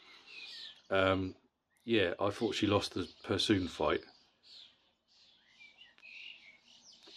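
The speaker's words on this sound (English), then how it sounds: "Look at those fucking birds," Someone talks, then high, thin bird chirps flutter in the background once he pauses, fairly faint and scattered.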